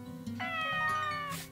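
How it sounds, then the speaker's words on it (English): Cats meow in Story of Seasons: Pioneers of Olive Town, one drawn-out, clear meow close up with a brief softer sound before it. "Hello, little kitties."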